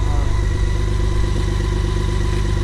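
BMW K1600 GTL inline six-cylinder motorcycle engine running at a steady idle, a smooth continuous low hum heard up close with no revving or breaks.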